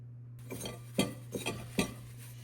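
A utensil stirs a homemade chewing tobacco mixture in a dish, giving a few soft scraping, clinking strokes close by over a steady low hum.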